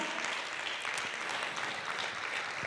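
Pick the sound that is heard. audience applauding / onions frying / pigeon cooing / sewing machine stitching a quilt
audience applauding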